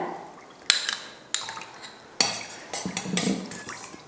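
Flour mixture stirred into tender coconut water in a bowl while preparing a sweet, with sharp spoon clinks against the vessel at intervals over a soft liquid swish, close and alone.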